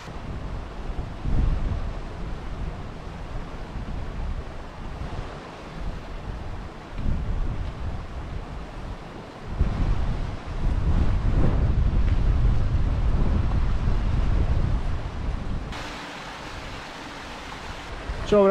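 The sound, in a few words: wind on Peak District hills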